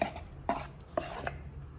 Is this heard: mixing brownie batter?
yes